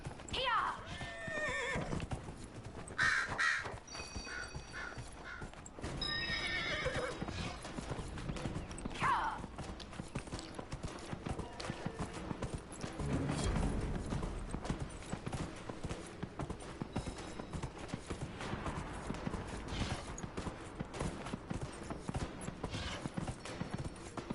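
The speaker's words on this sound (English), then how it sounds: "And then, from freaking nowhere, my horse appears." A horse in a fantasy video game trots with continuous clip-clopping hooves and lets out several loud neighs and whinnies. A voice talks intermittently over the game sounds throughout.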